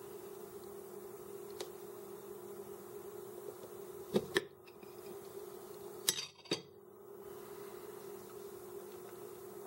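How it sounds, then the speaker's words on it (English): A knife cuts a Cadbury Creme Egg open on a plate, giving a few faint, sharp clinks and taps of metal against the dish, spaced apart over a low steady hum. "We're going to put this egg on our plate and cut it open and see what it looks like inside."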